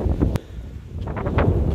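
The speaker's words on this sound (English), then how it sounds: "Wow, we just can't get away from that wind" Strong wind gusts buffet the microphone outdoors in a fruit orchard, producing a loud, rumbling roar with rustling and bursts that swell and fade throughout.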